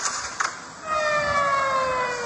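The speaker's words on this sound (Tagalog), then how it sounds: "Hanggang madaling araw ng Lunes, ang alingaw-ngaw na mga sirena sa Tel Aviv" Air raid sirens wail over Tel Aviv, Israel, during a night of missile attacks, a steady rising tone sustained at a distance after a couple of short clicks.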